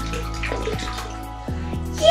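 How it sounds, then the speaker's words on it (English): Water is poured into a container for a toddler's sink-or-float play, gurgling and splashing continuously with rising filling tones and a sharper splash at the end. "let's put some more water in."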